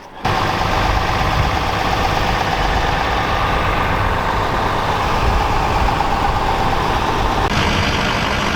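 A 6.0 engine truck idling while it warms up, a steady low rumble that holds close and loud throughout after a brief start.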